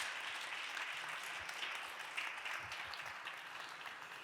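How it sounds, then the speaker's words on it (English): Conference audience applause for a guest speaker at a travel tech event in Tallinn, a soft, steady wash of distant clapping with no standout claps. "Please give our wonderful rockstar guest a round of applause."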